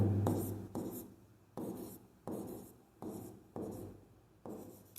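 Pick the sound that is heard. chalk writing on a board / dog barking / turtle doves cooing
chalk writing on a board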